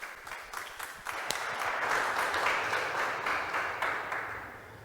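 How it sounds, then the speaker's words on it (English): An audience gives a round of applause at a tech conference session, the clapping moderately faint and building to a steady patter of many hands, then tapering slightly. "Give a round of applause, please."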